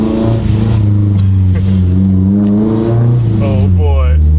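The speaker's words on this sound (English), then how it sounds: "We are that four banger, just wah Honda sound on the dyno." A Honda S2000 four-cylinder with stock headers revs on a dyno indoors, a loud, steady droning tone that swells and rises in pitch toward the end, with a talking voice over it.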